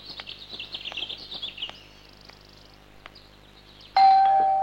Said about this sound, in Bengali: এত সকালে কি কলিং বেল বাজায়?